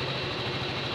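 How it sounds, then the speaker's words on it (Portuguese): Motorcycle engine idling in neutral on a town street at night, a steady, close, low rumbling throb that holds constant throughout. "Minha moto está no neutro."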